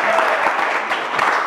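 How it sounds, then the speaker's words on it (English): Short burst of audience clapping at a comedy and music event, fairly loud and close, with a few sharper claps standing out. "A round of applause for Obi Aposo."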